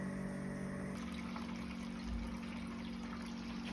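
Cooled wort flows out of a Brewmonk brewing system during a Guinness-clone brew, making a soft steady gush with a low pump hum. The tone shifts about a second in, and no one speaks.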